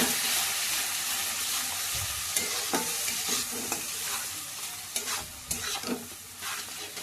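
Chilli powder masala with salt sautéed in oil for a loti fish curry, a steady close sizzle broken by scraping stirs of a spatula in the pan, with no talking.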